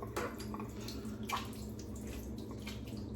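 A Feather blade in a safety razor being rinsed under running water at a sink, with a continuous close splashing stream and a few sharper drips and gurgles.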